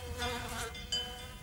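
Wasps forage on flowers, giving a brief, faint, wavering buzz that rises and dips as they move about.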